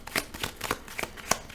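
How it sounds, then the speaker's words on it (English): A deck of playing cards shuffled for a tabletop card game, giving several quick riffling bursts in an irregular rhythm, close and fairly quiet, with no voices. "We're gonna shuffle our deck and get going here."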